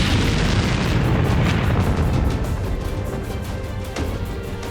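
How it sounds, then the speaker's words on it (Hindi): Chinese hydrogen bomb air-burst dropped by parachute from a Hong-6 jet bomber, heard as a loud sustained rumbling roar that slowly fades with crackling bursts, no voices. "ये चीन का हाइड्रोजन बम था, माओ के 2 बॉम्ब 1 सैटेलाइट प्रोग्राम का दूसरा धमाका।"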